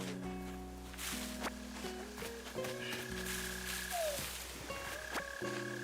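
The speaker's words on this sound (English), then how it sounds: "By that really annoying sound you're hearing right now, those are mole crickets." Mole crickets in Animal Crossing: New Horizons give a steady, droning croak from underground that carries on without a break. Game music with bright tones plays over it.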